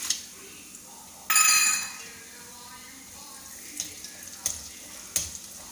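Dry copra hits a pan for chivda with a sudden loud hiss that fades over half a second, followed by a quiet background sizzle and several sharp clinks as it is stirred.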